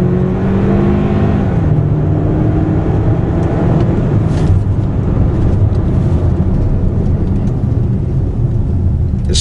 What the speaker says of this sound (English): And the acceleration from that little turbo